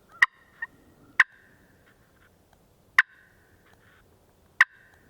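Sharp, isolated clucks struck on a glass turkey call, four loud single notes spaced about a second or more apart with a faint softer echo note, close and alone against quiet background.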